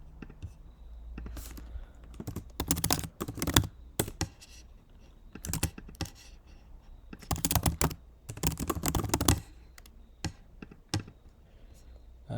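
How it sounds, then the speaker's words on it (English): Someone types on a computer keyboard in irregular bursts of sharp clicks and clattering keystrokes, close and fairly loud, with short pauses between runs. "I'm just typing out the page objects"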